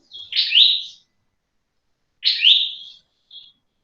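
A lovebird gives two loud, close, shrill chirps about two seconds apart, followed by a short, fainter third call, with silence between them.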